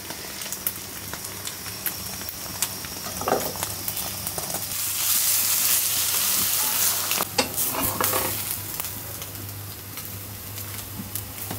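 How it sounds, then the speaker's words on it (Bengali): Egg frying in a pan with olives sliced into rounds, a loud steady sizzle with scattered spatula scrapes, swelling to a fuller hiss around the middle, close and with no voices. "আজকে ডিমটা ভাজবো অলিভ দিয়ে।"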